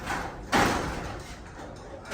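A garage door damaged by a golf cart being shifted, a sudden scraping rattle and thump that fades into a rumbling slide, close and moderately loud, with a faint knock at the end.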